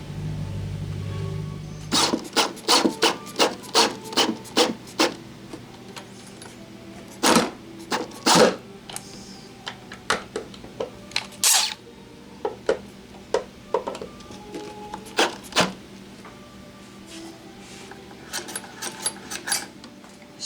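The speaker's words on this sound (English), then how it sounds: "I'm going to screw that bracket in, but I'm going to space it off with a couple of nuts" A bracket is screwed in place on a model railroad, spaced off with nuts: intermittent sharp clicks, ratcheting turns and small metallic taps, close and fairly quiet, with pauses between bursts.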